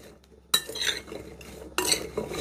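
Potato fries tossed with oil and salt in a bowl, two bursts of close scraping and clattering as they are stirred, separated by a brief quiet gap.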